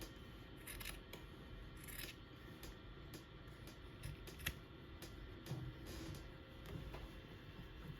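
Scissors trim a fabric seam allowance on a slouchy tote bag, a quiet run of close, irregular snips and rustles of cloth with no talking.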